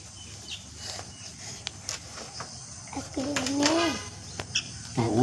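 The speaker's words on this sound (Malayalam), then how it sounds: "കുരുവിയാണ് തോന്നുന്നില്ലേ, കുരുവി കുട്ടിയാണ് തോന്നുന്നു" A baby sparrow chick chirps indoors in a few thin, wavering calls, mostly in the second half, against a faint steady background hum with small knocks.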